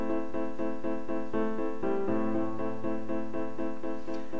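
An aria played instrumentally with no singing, a sustained melodic line moving over steady chords, loud and continuous throughout.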